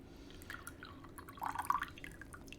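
Freshly brewed gyokuro tea poured from a small pot, giving a brief soft trickle and a few drips into a cup, quiet and close with no talking.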